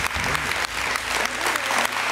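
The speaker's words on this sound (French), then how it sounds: "Et on peut l'applaudir," An audience at a Messmer hypnosis stage show bursts into applause, a loud, continuous round of many hands clapping with a faint voice underneath.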